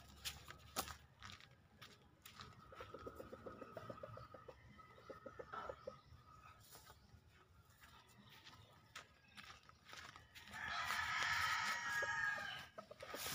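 Chickens in a small backyard poultry pen cluck and call repeatedly at close range, with a louder burst of squawking near the end and scattered taps and rustling throughout.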